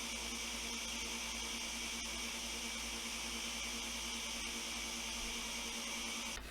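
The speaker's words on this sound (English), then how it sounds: "Just gonna pop this back on the blender again for another minute and 45 seconds" A stick blender whirs at a constant loud pitch through eggnog ice cream mixture, running without a break until it cuts off at the end.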